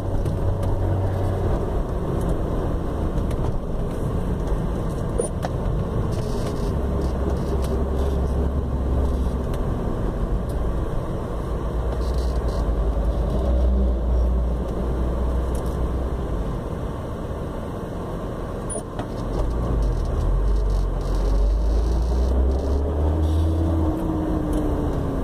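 A car fitted with an ITB intake, light flywheel and EcuMaster EMU standalone ECU drives along, its engine a steady close drone with gentle rises and dips in revs and continuous road noise.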